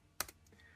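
A Wi-Fi password is typed on a MacBook keyboard, with one or two faint, quick key clicks close by in near silence.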